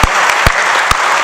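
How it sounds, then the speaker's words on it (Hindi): Audience at a Hindi veer ras poetry recital breaks into steady, dense applause, a close sustained clatter of many hands with a few sharper claps standing out, no talking over it. "एक बार तालियां उठाइए,"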